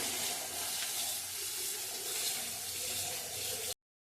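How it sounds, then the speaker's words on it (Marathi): Radish greens being washed under a running kitchen tap, a steady hiss and splatter of water close by that stops abruptly at the end. "आता ही स्वच्छ आपण धुवून घेऊया छान आपण अशी धुवून घ्यायची भाजी"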